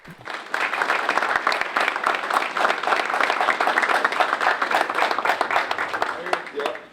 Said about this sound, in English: give him a round of applause, Mr. Jamal Boyd